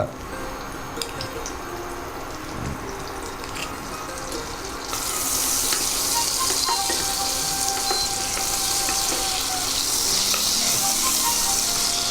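Butter drops into hot oil in a pan for chicken mushroom scaloppine; a moderate sizzle with faint clinks suddenly surges into a louder, steady hiss that keeps going.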